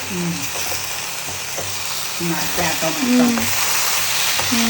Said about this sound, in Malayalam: നമുക്കൊന്ന് ഇളക്കാം ഫ്ലഫി മുട്ടയൊക്കെ നല്ല ഇപ്പോ ചിക്കി വന്നല്ലോ